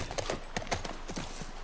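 Horse hooves clip-clop in a steady rhythm on the ground, nearby and clear, with a short whinny mixed in against a soft outdoor background.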